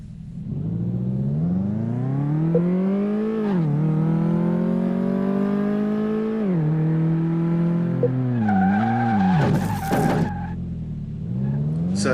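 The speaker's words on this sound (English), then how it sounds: "So this is me just testing the car, see how it moves, see how it runs." A car on the test track in Car Mechanic Simulator 2018 revs and accelerates, its engine pitch rising and falling through gear changes, with tire squeal near the end. It is loud and close, with no talk.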